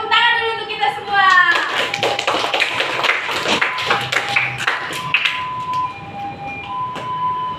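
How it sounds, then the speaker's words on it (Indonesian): A classroom of pupils applauds together, a dense burst of hand clapping that fills the room, with children's voices and chatter running through it. "tepuk tangan dulu untuk kita semua."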